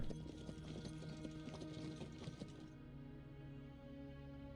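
Hooves of a horse team clip-clop steadily in Decisive Campaigns: Ardennes Offensive, a brisk run of close hoofbeats over a hum that drops away near the end.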